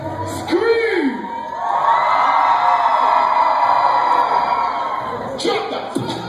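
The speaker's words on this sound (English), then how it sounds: "So my beautiful ladies, scream!" A dense concert crowd of women lets out a loud, sustained scream that swells after a brief shout and holds for several seconds before easing off near the end.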